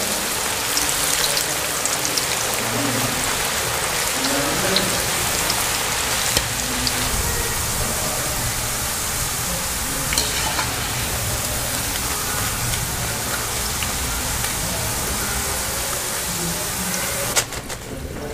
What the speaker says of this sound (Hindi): स्लाइसेस जो हैं वो खुश्क हो गए हैं, अभी इनको फ्राई कर लेंगे।